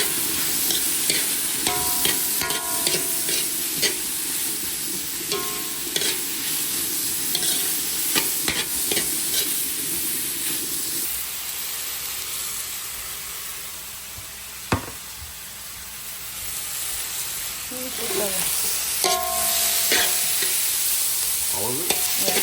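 Onion and garlic fry in a pan with a steady sizzle while a utensil repeatedly scrapes and stirs, the clinks and scrapes coming at irregular intervals over the continuous frying hiss.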